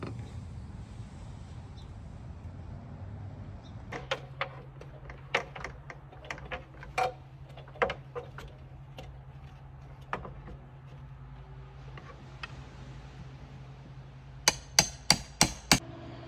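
Old glued-on vinyl window trim being pried loose, giving sharp scattered knocks and clicks with a quick burst of clustered taps near the end, close and fairly quiet over a low steady hum.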